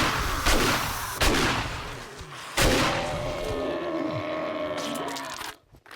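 Automatic shotgun blasts in a horde survival video game, a few loud sharp bursts spaced a second or so apart over ongoing rumbling game noise, with a speaking voice mixed in.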